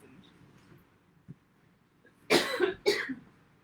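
Two sharp coughs close to the microphone after a quiet stretch, with a small throat noise just before them.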